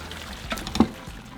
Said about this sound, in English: we're going to drain the water